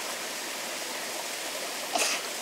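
Water running in a creek, a steady soft broadband rush throughout with one brief brighter splash near the end, heard alone at moderate distance.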